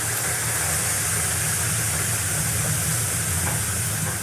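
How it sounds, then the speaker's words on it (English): Water splashes onto the hot stones of a traditional outdoor Nordic sauna, giving a steady, close hiss of steam that holds evenly at the same loudness throughout with no voices. "Water hitting the hot stones of a traditional sauna."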